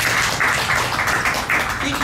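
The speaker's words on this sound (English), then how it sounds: "Round of applause for Becky" An audience claps for Becky after her vegan talk at a girls' event, a dense, steady patter of many hands mixed with voices throughout.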